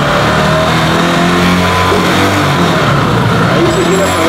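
An Italika Z 150 motorcycle engine held at high revs near 6000 rpm, a loud, steady buzzing drone with faint pitch wobble throughout and no talking.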